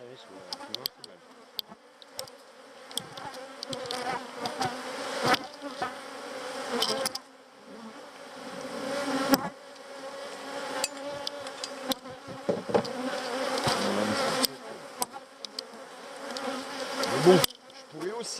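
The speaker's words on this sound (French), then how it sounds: "tu as beaucoup de grosses abeilles" Honeybees swarm over the brood comb of an open hive, their buzzing rising and falling nearby with close passes and bumps against the frames. It plays at moderate volume, and a few quiet human sounds come through now and then.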